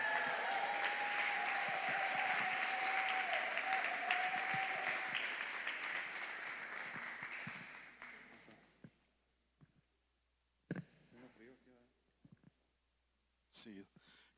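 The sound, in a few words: audience applause welcoming a pastor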